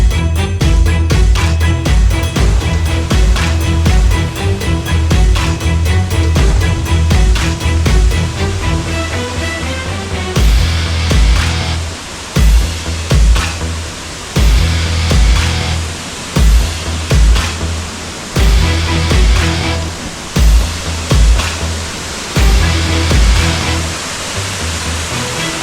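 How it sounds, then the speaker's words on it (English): Barron Falls, a large waterfall on a mountain in Australia, roars loud and close in a dense, steady wash of water noise, pulsing slightly in strength throughout. "we finally made it to this amazing waterfall"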